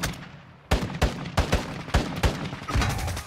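Gunfire in the video game Call of Duty: Modern Warfare II: a series of sharp, loud shots in irregular bursts, about eight blasts over a few seconds, with no talking.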